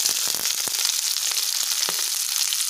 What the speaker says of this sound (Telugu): తర్వాత వెల్లుల్లి తరుగు వేసుకొని ఫ్రై చేసుకోవాలి.